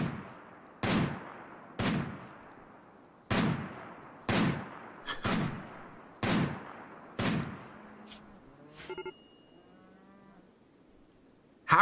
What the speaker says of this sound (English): Hunt until that muffalo is killed.